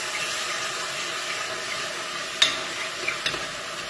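Spices frying in hot oil in a pan over high heat, a steady broad sizzle with a couple of sharp spits and clatters near the end, nothing spoken over it.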